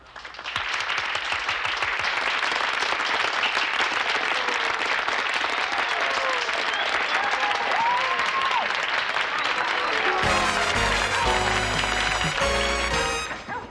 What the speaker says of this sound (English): how good it felt to have people applauding for you